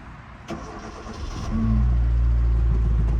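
A used car, bought cheap as a running and driving car, cranks with a key turn and fires up, settling into a loud, steady low engine rumble close by.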